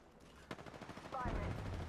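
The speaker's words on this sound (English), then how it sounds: "Launching thermite." Thermite grenade launched in a video game: a sharp firing pop, a quick rattle of follow-up bursts, then a heavier, sustained roaring blast close and loud.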